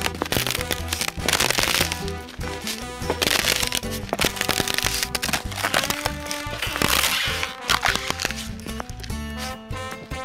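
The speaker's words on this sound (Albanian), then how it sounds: "Ktu kalon ujë poshtë akullit direkt atje, edhe po të shkelësh, shi si dëgjohet." Ice cracks and crunches underfoot over water flowing beneath it, loud close snaps and splintering crackles repeating in bursts throughout, with a busy layered texture.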